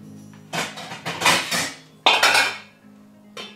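Metal pot lids clatter and clang against cookware while someone searches for the right lid during home soup cooking, several sharp loud clanks in uneven bursts with short quiet gaps, close and without talking.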